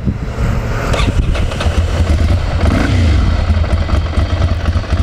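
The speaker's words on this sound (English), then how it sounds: "Check the miles and fire it up for you." A Ducati Monster 696 motorcycle with 1,850 miles idles steadily nearby, a loud continuous low engine rumble with slight clatter and small fluctuations throughout.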